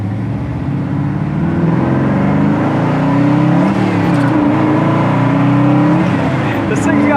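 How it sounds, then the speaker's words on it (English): A 1957 Chevy with dual exhaust rumbles from inside the moving car, a loud steady low engine drone with gentle rises in pitch as it accelerates, with a voice speaking over it. "I love the sound of that dual exhaust."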